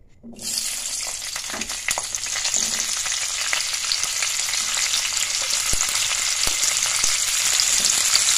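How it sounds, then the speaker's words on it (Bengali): Cauliflower pieces fry in hot oil in a kadai. A dense, steady sizzle starts suddenly after a brief quiet moment and holds loud and even, with scattered sharp pops and light stirring clatter. "তো ফুলকপিগুলো আগেই কড়াইতে দিয়ে দিচ্ছি"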